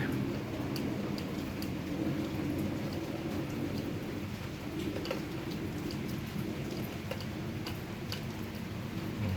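Steady morning rain pours down without a break in Bang Bua Thong, Nonthaburi, a dense hiss with scattered drips and ticks close by, and no voices.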